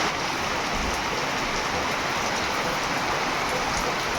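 Heavy monsoon rain pours down steadily in Rajkot around midday, a dense, continuous roar of water hitting surfaces close by, unbroken and without voices.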